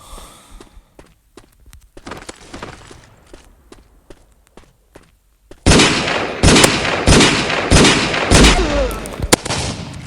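Sudden loud blasts of gunfire and an explosion from the mobile shooter game MaskGun, a burst of dense, repeated shots following quieter scattered footsteps and clicks.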